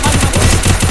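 Rapid automatic gunfire in the video game Free Fire, a dense burst of loud shots packed into under a second.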